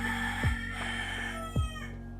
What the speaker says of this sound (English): The chickens are entering my garden.